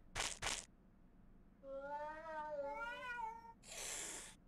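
Cartoonish cats in the video game Chulip meow in harmonic, wavering cries, one long drawn-out call between short bursts of other sharp noise, fairly close and clear.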